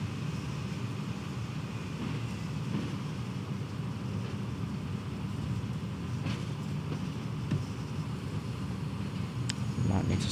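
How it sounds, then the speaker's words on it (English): British Rail Class 87 electric locomotive 87027 hauling an intercity passenger train toward Crewe and London, a loud, steady rolling rumble with rail clatter throughout and no pauses. "87027. Heading towards Crewe and London. With an intercity."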